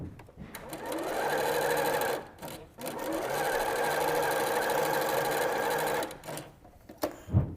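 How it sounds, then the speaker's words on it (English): A sewing machine stitches quilt binding strips corner to corner in two long steady runs of rapid mechanical whirring separated by a brief pause, fairly close and with no talking. "So we're going to take it to our machine and sew from the top left corner to the bottom right corner."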